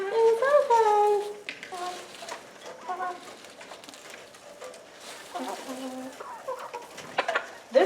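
Chickens in a backyard coop cluck and coo close by in short repeated bursts, with quieter rustling between calls.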